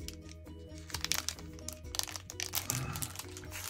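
A Darkness Ablaze Pokémon trading card booster pack of crinkly foil is handled and worked at for opening, giving continuous close crinkling and crunching that grows busier midway, over a faint steady background hum.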